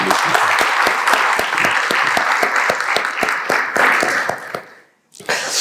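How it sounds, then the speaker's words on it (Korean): A church congregation at a Sunday service applauds the elders and choir, loud sustained clapping with a strong regular beat of unison claps running through it, then a sudden brief drop to quiet before it resumes. "하나님 앞에 영광의 박수로 우리 한번 다시 감사의 박수를"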